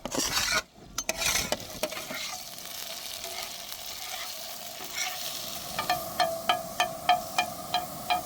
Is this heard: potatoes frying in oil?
yes